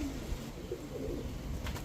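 A male blondinette pigeon coos in low, rolling murmurs close by, repeated over a steady background hum.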